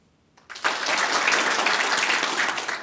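After a quiet start, a conference audience breaks into sudden applause, a dense burst of clapping that holds strong to the end.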